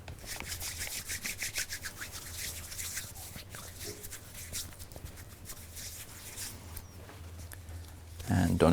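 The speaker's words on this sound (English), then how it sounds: "So, first thing is washing our hands." Hands are rubbed and scrubbed together during handwashing in a clinical setting before a subcutaneous injection, giving a steady close rustling friction with a low hum underneath and a louder burst at the end.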